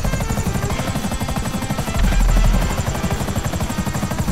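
Helicopter in the game GTA 5 flying with a loud, steady rotor chop and engine whine throughout, briefly swelling louder midway, with no talking.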